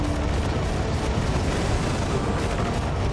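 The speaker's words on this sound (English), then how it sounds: "There's their artillery." Artillery fire from the video game Battalion Wars 2, a continuous heavy rumble of booms and blasts filling the whole stretch at steady loudness with no voices.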